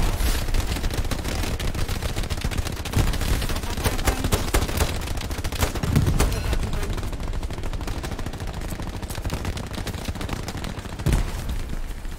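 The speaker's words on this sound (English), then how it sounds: "There's so many grenades flying around." Grenades and gunfire in the Hell Let Loose battlefield, a dense, loud, continuous barrage of rapid shots and blasts with sharper bursts standing out, and no clear talk.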